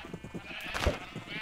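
Sheep in a video game bleat several times, with one louder bleat standing out among softer ones over a quiet game background.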